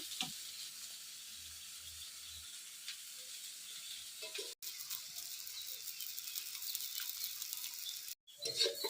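Bitter gourd, potato and onion fry in a pan with a steady, quiet sizzle and hiss that carries on throughout. Two brief breaks interrupt it and there is a faint rustle of stirring.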